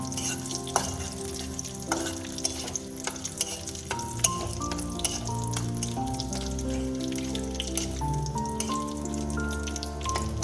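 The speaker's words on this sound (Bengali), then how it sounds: "ভেজে নিচ্ছি তেলের মধ্যে" Half a spoon of whole cumin seeds and three small bay leaves fry in hot oil in a pan, giving a steady close crackling sizzle with scattered pops and the occasional knock of a stirring utensil.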